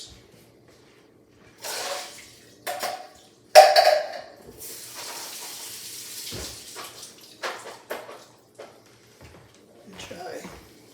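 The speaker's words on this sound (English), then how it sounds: "And I'm going to drain and rinse these beans." Running water pours over cooked beans draining in a kitchen sink, with several rushing bursts and splashes of uneven loudness, close by.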